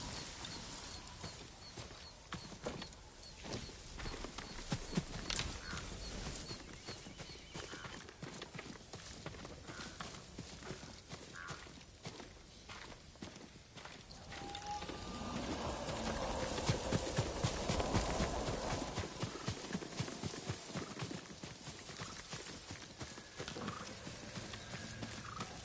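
Horse galloping in the Ghost of Tsushima video game, a dense clip-clop of hooves running steadily over a noisy outdoor bed that swells in the middle, faint and continuous throughout.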